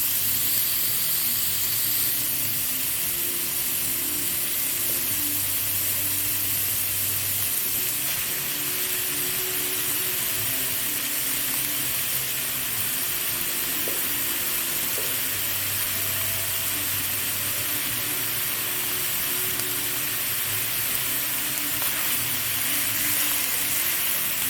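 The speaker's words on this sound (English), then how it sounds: "We're gonna saute this for another 3 minutes." Guyanese chowmein with shrimp sizzles and hisses steadily in a hot pan, a constant close frying sound with occasional faint stirring scrapes and no talking.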